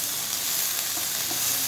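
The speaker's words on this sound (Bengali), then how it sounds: "দেখুন আমার কলাটাও লাল লাল করে ভাজা হয়ে গেছে" Raw banana pieces for shukto fry in hot oil, a steady close sizzle with a constant bright hiss and a few faint pops, with no talking.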